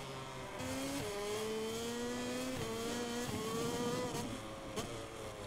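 MotoGP motorcycle lapping Jerez in MotoGP 24 on PS5, engine whine rising and dropping through gear changes and braking, steady and moderately loud with no talk over it.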